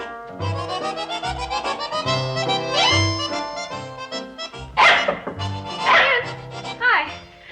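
A dog barks in a sitcom scene, a series of loud close barks in an uneven rhythm, with speech heard alongside.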